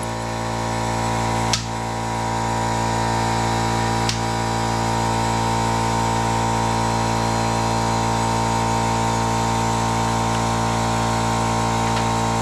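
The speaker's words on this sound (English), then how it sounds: "we have our 1/8 inch socket here on an impact. And just lefty-loosey that sucker off of there" An impact wrench with a socket runs steadily on a Sportster bolt, a loud, continuous mechanical whir held for many seconds after a couple of brief sharp clicks near the start.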